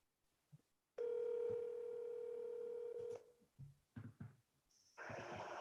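A steady phone dial tone sounds for about two seconds as a cold call is placed, followed by a few short clicks and tones, then a burst of noise.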